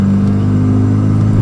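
A Renault Megane RS with a 2-liter turbocharged four-cylinder engine drones loudly from inside the cabin, a steady low engine rumble with strong sustained tones, briefly and without voices.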